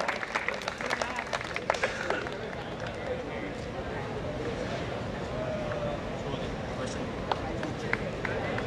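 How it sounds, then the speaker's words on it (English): An audience applauding the first prize winner of the Western Vocal round at a college cultural fest, a steady wash of clapping and crowd noise filling the hall under a voice on the stage. "A round of applause for Shuvadi, the first prize winner in the Western Vocal round."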